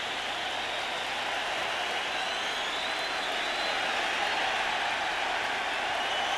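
Stadium crowd roaring and applauding for a curtain call at Yankee Stadium during a 2002 American League Division Series playoff game, a steady, dense wash of sustained cheering and clapping with no breaks.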